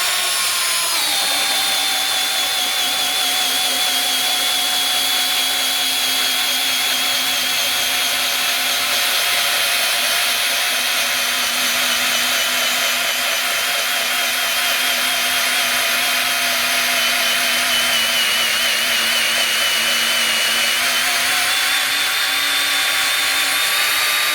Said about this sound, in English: I'm going to drill down here to kind of show you how sharp and how well this works.